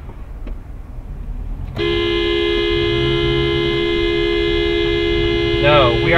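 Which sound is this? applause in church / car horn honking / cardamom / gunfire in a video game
car horn honking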